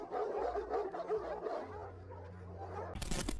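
Stray dogs barking and yipping in a loose, overlapping chorus at moderate distance, with a sudden harsh burst of noise at the end.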